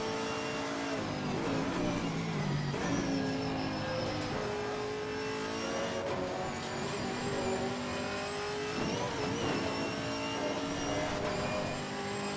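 A Chevrolet Camaro GT4.R race car engine in the racing game Assetto Corsa Competizione at Monza revs and shifts repeatedly, pitch climbing and dropping in rapid sweeps, loud and continuous with no talking.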